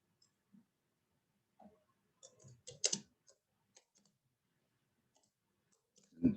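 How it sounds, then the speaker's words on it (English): Sparse, quiet clicks of typing on a computer keyboard, irregular taps with a faint burst in the middle and a louder knock at the end. "This is testing my typing skills."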